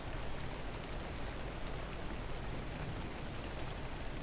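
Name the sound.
rain falling in ARK: Scorched Earth video game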